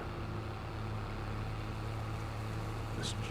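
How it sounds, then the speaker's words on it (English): Tractor engine in Farming Simulator 22, cruising down a farm road at speed with a steady low drone and hum that stays constant, a short higher blip near the end. "This tractor is peppy. It's cruising. It's doing 24."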